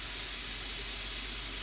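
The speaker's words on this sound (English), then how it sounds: "wait until it starts, until the steam comes out of this nozzle" A steady, loud, broadband hiss of steam jets from the nozzle of a cooker heating Hungarian goulash. The hiss is unbroken and nearby, with no voices.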